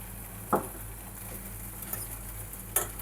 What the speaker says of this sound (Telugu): ఇప్పుడైతే దీన్ని కలుపుకుందాం.